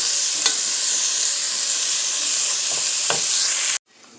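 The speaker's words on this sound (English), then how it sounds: "We're gonna sweat this down. Cook this for 5 minutes or so." Green onions and parsley sweat in a hot pan for Cajun chicken boudin, giving a steady, loud sizzle with a few brief spoon scrapes before the sound cuts off abruptly near the end.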